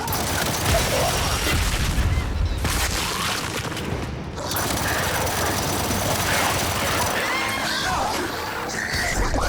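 Dense, continuous gunfire and explosions from combat in the Gears 5 video game, loud throughout with bursts of automatic fire, booms and occasional shouts in the chaos.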